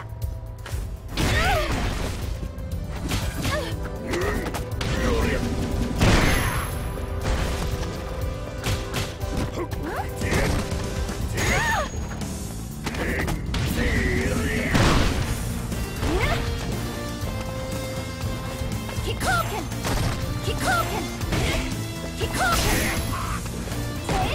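Punches, kicks and crashing impacts from a Street Fighter V match ring out repeatedly over busy game music and effects, loud and dense throughout the round.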